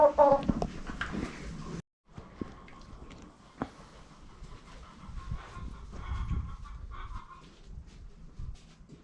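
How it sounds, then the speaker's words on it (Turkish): Laying hens cluck and chatter on a horse farm, a rooster-like call rising over steady background noise, with a brief dropout early on. "bunlar da çiftliğin Yumurta ihtiyacını karşılayan yumurta tavuklar."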